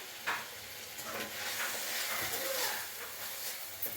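Gongura leaves fry in oil in a home kitchen with a soft continuous sizzle and hiss, broken by a few stirring clatters, at moderate distance.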